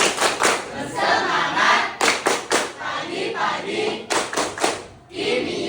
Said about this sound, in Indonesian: Kita akan tepuk kimia seperti yang sudah dipatenkan oleh Bu Nur Aini ya.